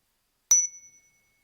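A meditation bell is struck once, giving a short, faint metallic ping with a clear ringing tone that fades quickly into silence.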